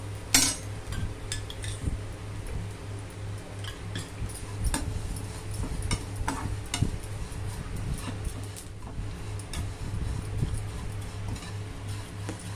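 Vermicelli sizzles in ghee in a pan while a spoon stirs it, with scattered metallic clinks and scrapes over a low steady hum from close by, and no talking.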